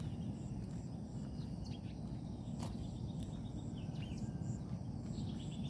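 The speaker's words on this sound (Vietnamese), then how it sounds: "Đấy, chim kêu." Birds call at dawn at the edge of a cajeput forest, with scattered faint chirps and a few sharper calls over a steady, dense background hum of insects or distant noise.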